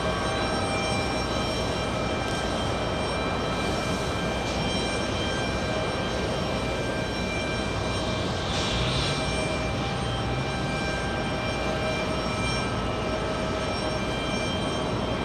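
SAS Airbus A321neo XLR jet taking off from JFK bound for Copenhagen: a continuous, moderately loud engine roar with a steady whine, distant and even throughout, no talk.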